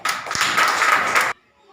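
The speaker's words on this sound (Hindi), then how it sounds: "ताली बजाओ।" Students in a classroom clap together in a short, loud burst of applause lasting just over a second, which cuts off sharply into near silence.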